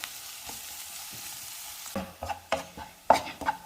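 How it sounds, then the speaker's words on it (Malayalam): Sliced onions fry in oil over a high flame, a faint, steady sizzle broken by several sharp scrapes and clinks of a spatula stirring the pan. "ബിരിയാണിക്ക് നമ്മൾ വറുത്തെടുക്കുന്നത് പോലെ ഈ സവാളയൊന്ന് വറുത്തെടുക്കണം"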